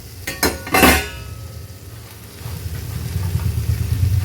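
A cooking pot lid lifts off with a few quick metallic clanks, then a low simmering and sizzle from the mint chutney mixture cooking on a stove rises steadily underneath.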